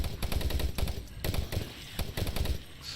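Rapid gunfire at spiders in the 2004 id Software game Doom 3, repeated bursts of sharp shots in quick succession, loud and continuous.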